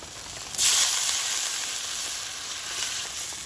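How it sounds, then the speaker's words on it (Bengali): Water hits hot fried spice paste in a pan as a fish curry is made, bursting into a loud, sudden sizzle that settles into a steady hissing bubble. "মশলাটা ভালোভাবে কষিয়ে নিয়েছি মশলা থেকে তেল ছেড়েছে এবার জল দিয়ে দেবো"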